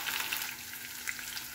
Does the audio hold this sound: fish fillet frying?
yes